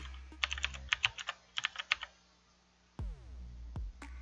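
A run of rapid keystrokes on a computer keyboard as a Wi-Fi password is entered, a burst of about a dozen clicks in quick succession, then a pause and a couple of louder clunks near the end.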